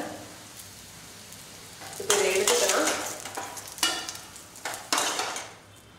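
Bitter gourd sizzling in oil with intermittent stirring and utensil scrapes against a pan, close up, with bursts of louder clatter over a steady frying hiss.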